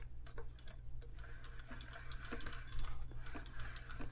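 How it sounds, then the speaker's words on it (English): A Singer 301 sewing machine is turned over slowly by hand, giving a steady, close mechanical ticking and light clicking with a low hum underneath, no voice present. "give this a little hand test to see, is it grinding, is it making noise, is it spinning, kind of see what it feels like and sounds like"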